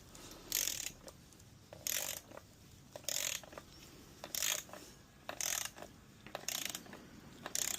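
A ratchet tightening cylinder head bolts on a 2007 Ford Mustang 4.0 engine: repeated bursts of close, crisp clicking strokes, about seven in a steady rhythm, with brief pauses between.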